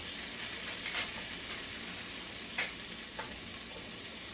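Chicken fried rice is stirred in a hot pan, making a soft, continuous frying hiss with a few brief scraping and clinking strokes, fairly quiet and with no voices.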